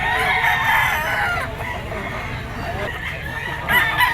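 A yellow-legged rooster crows loudly at a pet market, with a stretched, wavering call near the start and another burst near the end, set against busy crowd murmur and other fowl.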